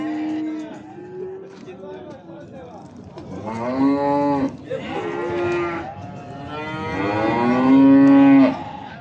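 Cattle at a livestock bazaar lowing in long, loud moos, several calls in succession close by, with a busy market murmur underneath.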